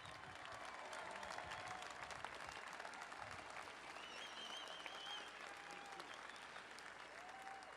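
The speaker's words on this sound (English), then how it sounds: "How about a nice round of applause for this entire field?" Steady, sustained applause from a large crowd at the Indianapolis 500 public drivers meeting, dense clapping heard from within the audience.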